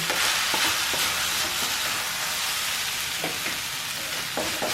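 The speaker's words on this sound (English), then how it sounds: "Come on, now we are going to mix it nicely." Ching's noodles are mixed with masala in a pan: continuous loud sizzling with scraping stirs and a few sharper knocks of the utensil against the pan, close up, with no talk.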